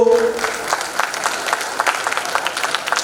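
An audience claps at the award ceremony of the second folk art festival in Brahmapur, 2023: brisk, crisp applause from a gathered crowd that carries through at a steady level after a brief tonal sound at the start.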